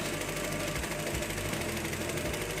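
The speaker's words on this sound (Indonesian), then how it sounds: "kita jahit pelan-pelan dan membentuk garis lurus" A sewing machine stitches slowly along a straight line, its needle thumping in a steady, even rhythm at close range, with a low mechanical hum and no talk.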